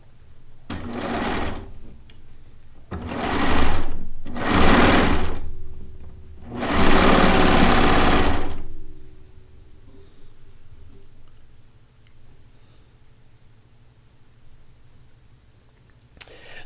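A sewing machine stitches a log cabin quilt at a 2.5 stitch length, running in four close, loud whirring bursts of varying length before falling quiet.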